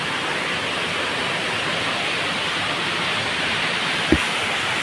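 Water pours down from high rocks in a stream where crabs are caught. It makes a steady, dense rushing roar that stays even throughout, with one brief click near the end.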